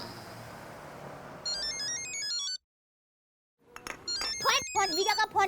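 Ringtone of an incoming call on a phone in a home, a bright repeating electronic melody that plays in two bursts separated by a short silence, with a voice talking softly in the background.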